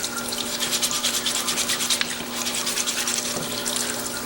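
A brush scrubs parts in diesel in a new shop parts washer, a close, steady rapid back-and-forth scrubbing with a wet, sloshing hiss throughout.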